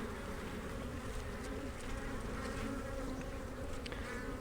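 Dense, steady buzzing of many honeybees close by in an open hive, a continuous droning hum with no voices.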